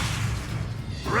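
An Incendio fire spell cast in Hogwarts Legacy erupts as a dense, loud whooshing burst of flame and rumble that swells again sharply at the end.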